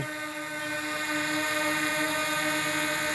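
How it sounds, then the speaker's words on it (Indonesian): A DJI Mini 2 drone buzzes continuously close by, a steady high-pitched whine of spinning propellers with layered tonal hum that holds at a loud, even level throughout. "kita matiin aja drone-nya dulu ya, berisik nih kayaknya nih"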